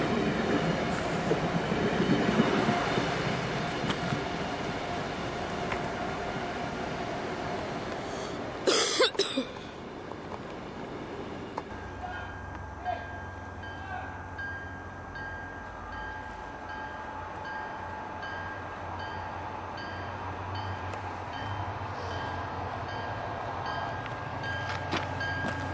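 A train approaches and pulls into a station platform during rush hour, a rising rumble and rail noise with a brief loud clatter or cough, then a steady low hum of the arriving cars.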